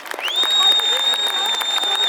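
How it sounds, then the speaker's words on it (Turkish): Audience applause in response to a call for a big round of clapping, a dense steady patter lasting throughout with a sustained high whistle-like tone and voices talking over it. "Kocaman bir alkış alalım. Alkış!"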